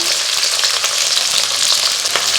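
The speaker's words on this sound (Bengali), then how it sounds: "বিনস আর গাজরটা আমি একটু ভেজে দেবো।" Beans and carrots sizzle steadily in a hot pan, a bright continuous crackle with a few soft stirring scrapes, close and fairly loud.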